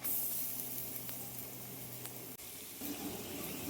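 Garlic and onion sizzle steadily in hot oil in a pan, a close, even hiss with a couple of faint clicks and a brief dip before the frying swells again.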